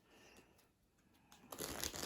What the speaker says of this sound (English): you're going to shuffle up the cards